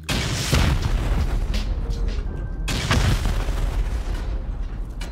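Rockets explode during a raid in a survival video game, two heavy booming blasts with rumbling decay over a continuous loud roar of background noise.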